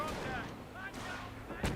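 Bofors cannon fire from a British unit in the Company of Heroes strategy game: sharp gunfire reports amid busy battle noise, with a prominent near blast late in the short stretch.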